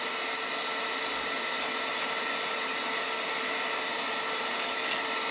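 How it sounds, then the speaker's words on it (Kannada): An electric mixer machine beating oil, sugar and milk for a birthday cake batter, a continuous bright motor whir with a hissy edge, steady and close with no breaks. "ಆದರೆ ಇದು ಇತ್ತು ರೀ ಮಿಷಿನ್ ಮನೆ ಒಳಗೆ, ಅದಕ್ಕೆ ನಾನು ಇದರಿಂದ ಮಿಕ್ಸ್ ಮಾಡೋದತ್ತೀನಿ ರೀ"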